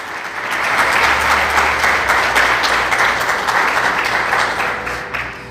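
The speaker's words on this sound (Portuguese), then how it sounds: "Aplauda o Senhor mais forte" A church congregation claps harder in praise, a loud, sustained burst of massed applause that builds quickly, holds strong for several seconds, then begins to taper.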